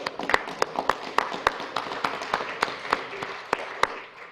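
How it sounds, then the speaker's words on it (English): Sparse applause at a city council meeting, a handful of people clapping with distinct sharp claps in an irregular rhythm over a low room hum, fairly quiet and moderately distant. "That includes Mr. Graves as well in that applause there"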